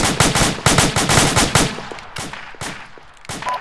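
Rapid automatic gunfire in an Arma infantry game, loud close bursts of machine-gun fire in quick succession that thin out into scattered, more distant shots.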